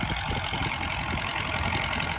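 A tractor engine chugs steadily at idle nearby, a continuous loud rumble with no voices.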